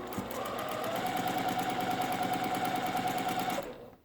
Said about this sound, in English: I butt it right up against that needle, and then I stitch.